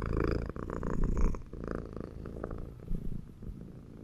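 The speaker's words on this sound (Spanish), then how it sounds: "Un juego que tiene un gato al que puedes acariciar, hace una pequeña animación y encima tiene ronroneo" A cat in the video game Befriended Curse purring as it is petted, a close, loud rumbling purr in rhythmic pulses, alone without talk.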